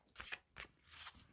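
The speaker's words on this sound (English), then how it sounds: "So now I'm going to shuffle the cards for Taurus." Tarot cards are shuffled in a few soft, quick riffling bursts, close but faint, with no one talking.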